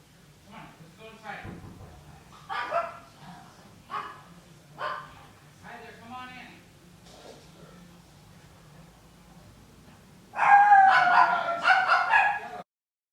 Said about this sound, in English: sorry if there's dogs barking and I keep getting interrupted